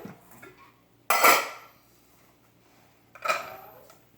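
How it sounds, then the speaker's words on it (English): Chopped vegetables for Italian chicken soup are dropped into a pan in two separate bursts of clattering and rustling, close by, with quiet gaps between them and no talking. "Now, they're all done, and I will put them in the pan."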